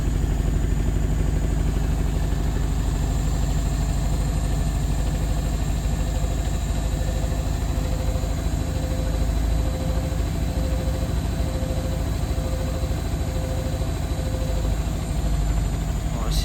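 An Indesit Innex washing machine running a wool wash, its drum turning with a steady loud low rumble and constant motor hum, a faint repeating whine pulsing along, unbroken for the whole stretch.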